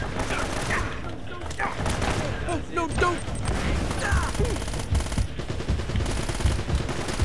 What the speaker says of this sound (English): I'm going to start off with a grenade here.